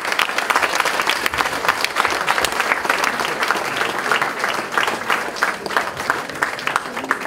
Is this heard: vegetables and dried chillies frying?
no